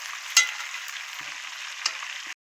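Chicken pieces frying in a pan, an even hissing sizzle throughout with a couple of brief sharp pops, fairly close and steady, no voices.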